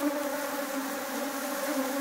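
Honeybees buzz steadily around three beehives with side and top entrances, a continuous close drone with no voices.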